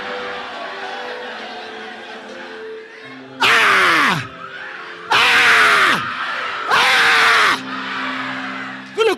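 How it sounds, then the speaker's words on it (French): A crowd at a religious gathering shouts war cries in three loud, drawn-out bursts, each a few seconds long, with talk and murmuring in between. "Vous ne connaissez pas les cris de guerre ici?"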